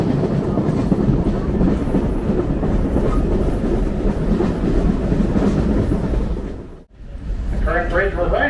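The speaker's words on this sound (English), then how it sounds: "the train crosses over at a slow speed to reduce excessive vibrations to the bridge." An excursion train behind steam locomotive No. 60 rolls slowly over an old 1920 bridge, heard from on board as a loud continuous rumble with clickety-clack, easing briefly near the end.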